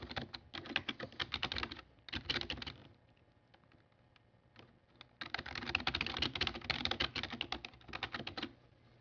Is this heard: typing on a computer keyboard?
yes